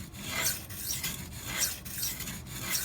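A Maxamet steel knife blade ground on a Venev diamond sharpening stone, making steady rhythmic rasping strokes, about five close passes with brief pauses between them and no talking.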